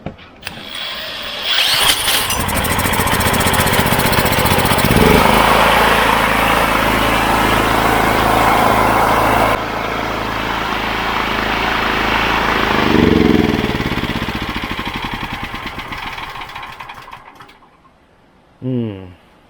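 A small petrol engine on a Honda GX390 clone 5kVA generator is electric-started and runs loudly at a steady pace, shifts pitch partway through, then winds down and stops.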